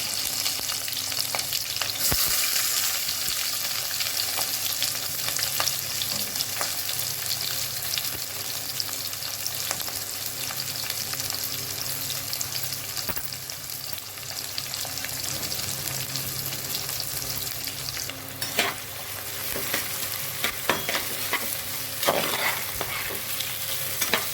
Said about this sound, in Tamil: பூண்டு, வெங்காயம், பச்சை மிளகாய் போட்டுக்கேன்.